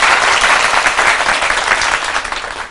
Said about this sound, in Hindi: अब इसके लिए फाइनली तालियां बजा दीजिए